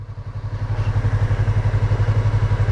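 A motorcycle engine idles loudly and close with a fast, even pulsing throb while the rider pulls in the clutch, the rhythm holding steady throughout.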